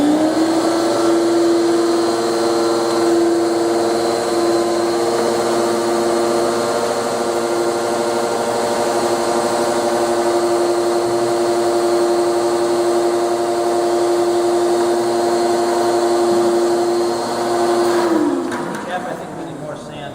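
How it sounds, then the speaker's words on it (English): A small shop vacuum runs steadily and loudly with a strong sustained whine, starting up at the beginning and winding down near the end. "You want to fire up the vacuum?"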